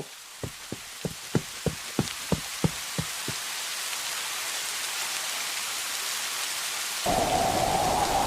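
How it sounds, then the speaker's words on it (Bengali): A series of about ten sharp rhythmic knocks over steady rain, then the storm's downpour continues, growing louder and harsher near the end. "যেমন বৃষ্টি হচ্ছে তেমন ঝড়"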